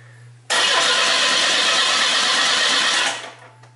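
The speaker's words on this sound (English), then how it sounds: "So I'm going to crank it" A 1988 Oldsmobile Cutlass engine cranks loudly and steadily for about two and a half seconds, a dense continuous churn that cuts off abruptly, leaving a faint low hum afterward.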